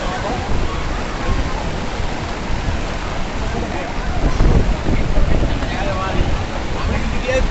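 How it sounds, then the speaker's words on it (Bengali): Heavy rain pours at Digha beach while surf breaks nearby, making a loud, steady broadband wash of rain and waves with wind buffeting the microphone throughout. "এত বৃষ্টি পড়ছে না, মানে বলার বাইরে। সেই পরিমাণে বৃষ্টি হচ্ছে।"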